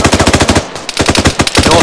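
Loud automatic machine gun fire rattles in the video game Arma 3, quick evenly spaced rounds in bursts, with a brief pause before the firing resumes close by.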